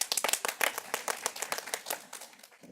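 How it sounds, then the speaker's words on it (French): A small group claps for Erika, quick uneven hand claps that are close and fairly light, fading a little toward the end. "Ça mérite des applaudissements."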